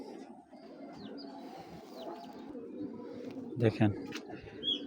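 Racer pigeons coo softly in a loft, a low continuous murmur of cooing with a louder coo near the end, while someone speaks briefly.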